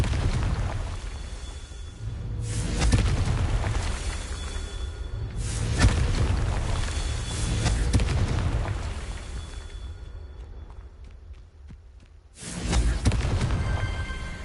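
Explosive Confringo spell blasts in a video game: several heavy booming bursts in quick succession, each rumbling loudly and then fading, without speech.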